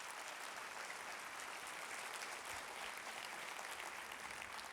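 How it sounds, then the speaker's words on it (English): Applause from an education reform event audience, faint and distant, a steady wash of clapping with no talk over it. "Please give yourselves a round of applause."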